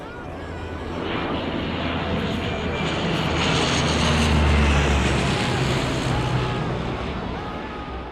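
A search plane drones over the 1972 Andes crash site in the mountains, its propeller engine a loud continuous roar that swells toward the middle and slowly fades as it passes overhead.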